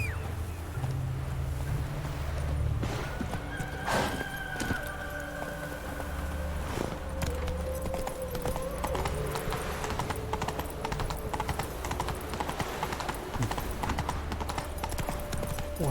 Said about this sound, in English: Un caballo, ya está.